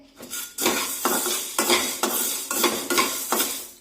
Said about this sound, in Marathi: पहा आवाजावरूनच तुमच्या लक्षात आलं असेल की हे साबुदाणे छान आजपर्यंत अगदी व्यवस्थित भाजलेले आहेत